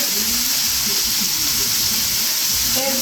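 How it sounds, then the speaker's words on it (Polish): Meat sizzles and fries steadily in a pan for a homemade tortilla kebab, a constant close hiss with faint crackle and no talk. "kroimy w międzyczasie, gdzie się mięso smaży."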